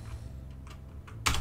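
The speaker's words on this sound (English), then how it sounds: "We're actually just going to type sudo reboot." A short burst of typing on a computer keyboard as the sudo reboot command is entered on a Mysterium node, a few close, crisp key taps ending with a louder press.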